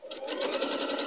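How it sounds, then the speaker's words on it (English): A home sewing machine runs steadily for about a second, stitching across a pin while piecing a log cabin quilt, with a continuous buzzing whir close by and no speech. "I'm just walking over it with my sewing machine"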